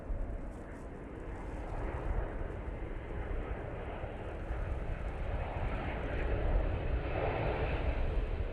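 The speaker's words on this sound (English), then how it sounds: "TUI coming in from Montego Bay, using the 787-8 Dreamliner for this" A TUI Boeing 787-8 Dreamliner arriving at Manchester Airport from Montego Bay produces a continuous broad engine roar that swells slightly toward the end, heard alone without talk.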